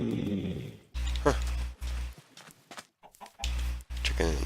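Minecraft chicken clucking in short bursts, separated by loud low-pitched blocky noises and gaps of near silence, close and moderately loud.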